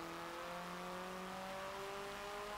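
A Hyundai Veloster engine in Forza Motorsport 7 holds a steady, loud revving drone with rising harmonic tones, continuous throughout with no voices.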